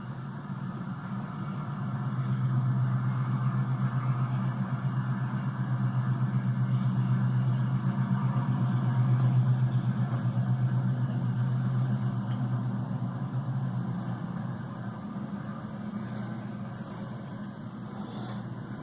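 A freight locomotive shoves cars back into a siding, giving a continuous low diesel rumble that swells and eases over nearly twenty seconds, with steady mechanical drone throughout.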